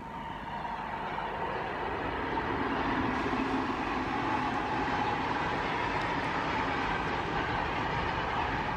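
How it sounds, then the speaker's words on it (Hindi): A double-stack container train rolls past with a continuous rumbling roar and rhythmic wheel clatter, heard steadily at moderate distance throughout with no voices. "ये डबल स्टैक कंटेनर वाली जो ट्रेन है ये खूबसूरत बहुत लगती है"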